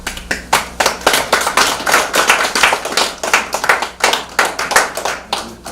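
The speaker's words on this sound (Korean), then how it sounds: "뜨거운 박수 좀 부탁드리겠습니다." An audience clapping loudly and close, with dense, fairly rhythmic hand claps running the whole way through, at an outdoor community event.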